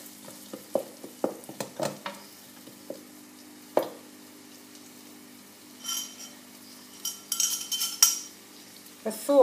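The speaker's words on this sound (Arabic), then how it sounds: "قلي شوية." Food sizzles in a pan while being stirred for a cauliflower dish, with intermittent clinks and scrapes of a utensil against the pan, quiet and close, and no talking.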